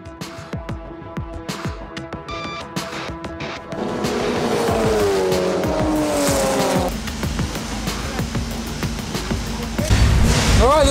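A Praga R1 track car driving on a race circuit, its engine rising from a choppy idle to a loud, sustained high-revving drone with sweeping pitch changes and a sharper roar at the end.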